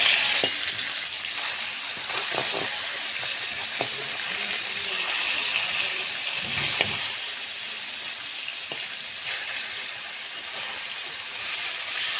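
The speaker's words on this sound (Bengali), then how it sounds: "মাছগুলো এক সাইডে ভাজা হয়ে গেছে," Fish pieces frying in oil after being turned over, a continuous close sizzle with intermittent crackles and a few soft knocks, no one speaking.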